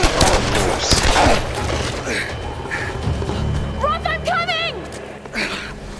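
Gunfire in the Tomb Raider action game comes as a dense burst of shots and thuds mixed with other game sounds, heard under character dialogue.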